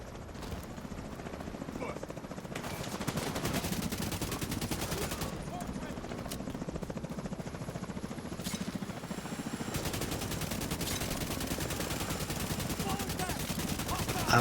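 Automatic weapon fire in The Division 2 during a manhunt, dense rapid bursts against a steady roar like a helicopter or aircraft engine, loud and continuous throughout.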